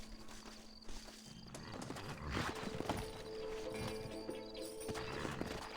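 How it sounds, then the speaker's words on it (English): Horses in the video game Red Dead Redemption clip-clop on the ground as they move along, with an occasional whinny and faint background sounds, no talking. "Horses are over here!"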